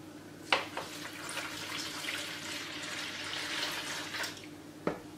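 Milk pours into a dough mixture of yeast and sugar for poğaça. A soft, steady liquid splashing sounds close and quiet for several seconds between a couple of light knocks, with no talk.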